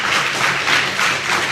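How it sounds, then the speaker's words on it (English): Audience members clap at an African book launch event. The applause is dense and continuous, close and fairly loud, and it lasts the whole short moment with no voices over it. "you are giving that clap."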